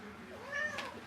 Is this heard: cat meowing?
yes